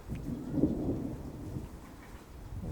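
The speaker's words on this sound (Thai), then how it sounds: "ฟ้าร้อง" Low, distant thunder rumbles softly over steady light rain outdoors beside a garden plot, a faint rolling boom that swells and fades.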